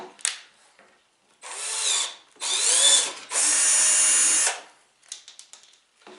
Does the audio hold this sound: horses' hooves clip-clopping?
no